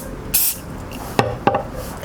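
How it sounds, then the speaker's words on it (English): A short hiss of glue activator sprayed from an aerosol onto a furniture veneer piece close by, followed by a couple of light clicks against low background noise. "I want to spray a little activator so that it sets up quickly"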